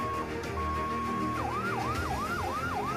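An ambulance siren at a disaster-preparedness rescue drill in Indonesia sounds loud and steady, a held tone that switches to a fast rising-and-falling wail, alone without voices over the background noise.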